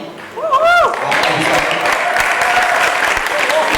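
Applause from a book-launch audience welcomes a panelist, a full continuous crowd clapping that follows a brief spoken phrase and carries through to the end.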